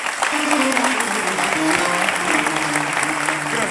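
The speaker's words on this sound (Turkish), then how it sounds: "Alkışlarla federasyon başkanımızı buraya alalım." Loud continuous crowd applause welcoming a federation president at a Ramadan entertainment gathering, a dense roar of clapping throughout with voices and cheering mixed in.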